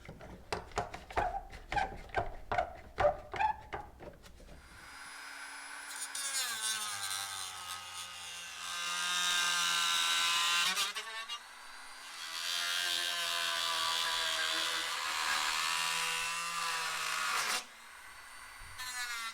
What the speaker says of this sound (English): We're going to be using a Dremel with a cutoff wheel to do this.